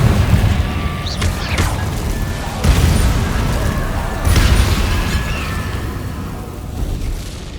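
Explosive Confringo spell blasts in the video game Hogwarts Legacy, with dense booming bursts at about 1, 2.7 and 4.3 seconds over constant rumbling battle noise and whooshing magic effects.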